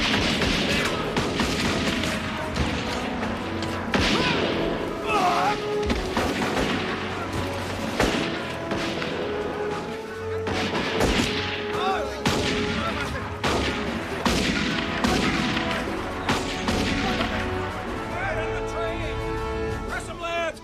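A chaotic western movie battle: machine-gun bursts and booming artillery blasts crack out in dense, irregular volleys, with shouted voices mixed in throughout.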